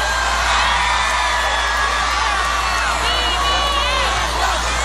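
Crowd at a riverbank gathering in Marikina cheering and shouting, with young women's high-pitched cries and whoops rising over a steady roar of voices, loud and continuous throughout.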